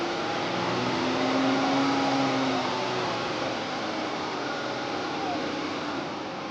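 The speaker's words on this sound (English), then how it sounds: "Now it says increase the RPMs to 2500 and keep it there for 5 seconds." A car engine revved and held near 2500 RPM during a battery charging ripple test, a loud continuous droning roar with a slight rise and fall in pitch, steady throughout.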